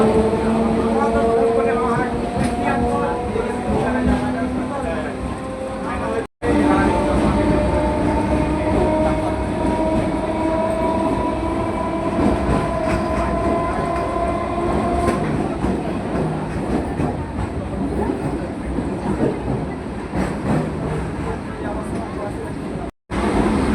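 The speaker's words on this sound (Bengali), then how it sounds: "ট্রেনে উঠে পড়েছি।" Onboard a passenger train heading to Sovabazar and Ahiritola, a steady loud rumble of wheels on rails with rhythmic clatter and carriage rattle fills the whole stretch, with voices murmuring faintly beneath.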